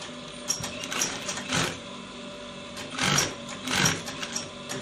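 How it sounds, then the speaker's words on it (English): A sewing machine stitches trouser fabric down to a notch in short uneven bursts, close and fairly loud with a mechanical hum under each run. "You sew from this point down to where the notch is."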